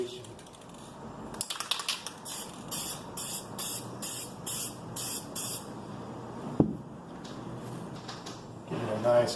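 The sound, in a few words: spray paint can spraying inside fireplace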